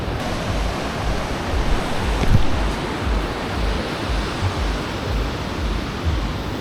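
Ocean surf at a Bali beach: a steady, broad wash of breaking waves close by, mixed with wind buffeting the microphone, with no voices.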